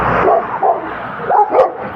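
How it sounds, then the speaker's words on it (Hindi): A dog of a tough breed barks at people passing by its gate in an Italian village, a few sharp close barks and yips over about two seconds. "इसने कुत्ता रखा हुआ, ये देखा जैसे हम गुजर रहे हैं, इसने शोर डाला हुआ है"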